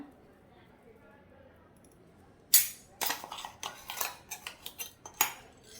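Ground spice masala spooned into a bowl of amla and green chilli pieces with oil: after a quiet stretch, a run of sharp metal spoon clinks and scrapes against the bowl, close and distinct.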